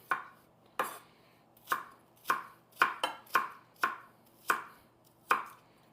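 An onion chopped with a knife on a board, about a dozen crisp, close cuts in an uneven rhythm, each a sharp knock with a short tail, alone without talk.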